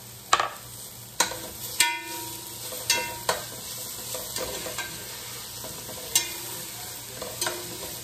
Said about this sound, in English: Okay, and I'll stir that around.